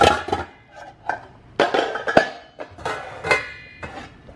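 Metal pots and lids clank and clatter as they are pulled out of a kitchen cabinet, in a series of irregular close knocks and ringing clinks.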